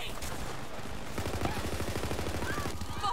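Rapid SMG fire from Borderlands 3 gameplay, a fast regular burst of shots rattling steadily through most of the stretch, with a faint voice underneath.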